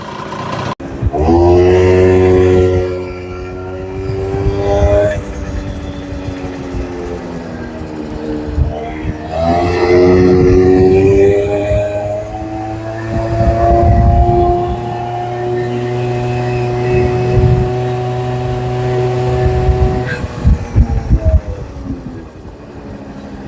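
A 1988 Honda Vision Met-in 50cc scooter engine buzzes loudly as it is ridden. Its pitch climbs with each throttle-up, drops back between surges and rises again several times, with wind rush around it.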